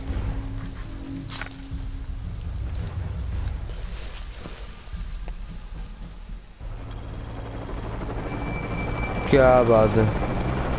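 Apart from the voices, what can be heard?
helicopter flying overhead in video game Shadow of the Tomb Raider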